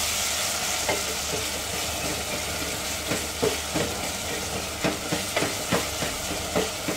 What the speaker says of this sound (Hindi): मीडियम फ्लेम पे फ्राई कर लेंगे प्याज को